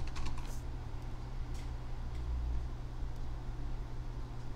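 Faint, quick keystrokes on a computer keyboard tap in a few short clusters over a steady background hum, with no talk.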